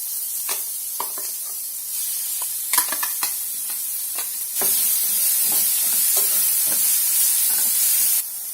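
Amaranth stems frying in a pan, a steady hiss that jumps louder partway through, with scattered clicks and scrapes as they are stirred.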